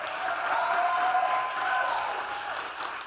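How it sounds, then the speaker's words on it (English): An audience at a live speaker showcase breaks into steady, dense applause for an introduced speaker, a continuous wash of clapping with faint music or hum beneath, sustained throughout without a pause. "Please join me in giving a thunderous, chair dancing, music pumping round of applause"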